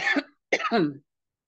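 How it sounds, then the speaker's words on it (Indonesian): Two short, rough coughs close to the mic, separated by a brief pause, then silence. "Jadi batuk nih."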